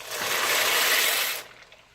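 Dry pasta pours into a pot of water for mac and cheese, a dense rattling, hissing rush for about a second and a half that stops abruptly.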